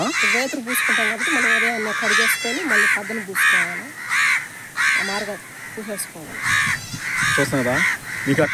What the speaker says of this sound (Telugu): మేము వీడియో ఆడ తీస్తాం ఆడనే వచ్చి ఆరుస్తున్నాయి ఫ్రెండ్స్ కాకులు అయితే